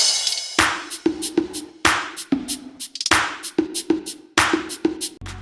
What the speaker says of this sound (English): This clap.